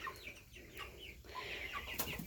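Hens in a farm barn cluck softly and intermittently at close range, a few short calls overlapping in a quiet indoor space.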